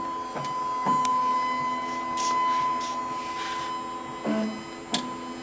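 A Duplo 4000 booklet maker runs steadily while stitching paper, giving a low mechanical hum with a few sharp clicks and clunks from the stitching, at a moderate distance.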